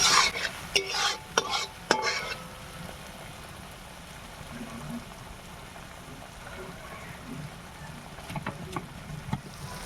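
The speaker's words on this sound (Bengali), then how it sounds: "যতক্ষণ না মশলা থেকে তেলটা ছাড়ছে ততক্ষণ আমি এটাকে কষাতে থাকবো" Masala sautéing in oil in a pan for a shol fish and potato curry, with loud scraping stirs in the first two seconds, then a steady low sizzle and occasional soft stirring clicks.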